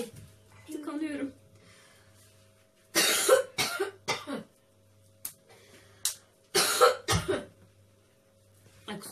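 Someone coughs repeatedly in harsh, loud bursts, a coughing fit broken by throat clearing and brief strained talk, with a low steady hum underneath.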